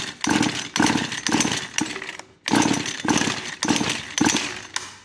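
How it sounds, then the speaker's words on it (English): Husqvarna 435 chainsaw being cranked with its pull starter, carburetor off, a series of loud close rasping pulls in quick rhythm with one brief pause midway, the engine never catching. "I'm gonna crank on it some more."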